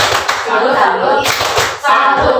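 In a classroom a group gives a clapping salute, a burst of loud, close hand clapping that pauses and then starts again, with voices heard briefly between the bursts.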